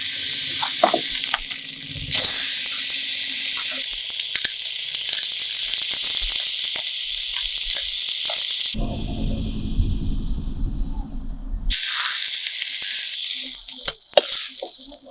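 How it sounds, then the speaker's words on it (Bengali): Fish fries in hot oil, a loud, steady close-up sizzle broken by a short lower rumbling stretch and then resuming. "বেশি ভাজতে হয়নি হালকা করে ভেজে নিয়েছি এবার তুলে নিই"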